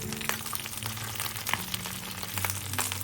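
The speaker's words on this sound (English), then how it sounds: "Then add the bok choy and give it a quick stir." Bok choy stir-frying in a hot pan with oil, a steady crackling sizzle with scattered sharp pops and the scrape of stirring, close and continuous, with low background hum and no talking.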